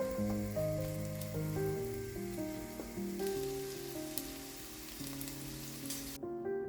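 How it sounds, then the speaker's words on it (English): Onions fry over medium heat in a pan, giving a steady, soft sizzle beneath continuous background music with no speech. "While onions are sizzling,"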